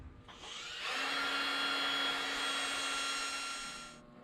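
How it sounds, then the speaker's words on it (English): A power drill bores through the sheet metal of a car's radiator core support, a steady loud whine that ramps up, holds for about three seconds, then cuts off, with no talk. "I drilled through the radiator core support, which is sheet metal"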